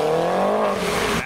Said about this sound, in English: Maybe a bit of a convoy of cars are leaving.